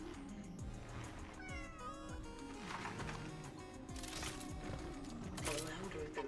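Cat meowing in Cronos: The New Dawn, a horror video game, set in a hospital level, heard in several drawn-out meows over a dense, loud bed of game music and effects, with voices talking over it.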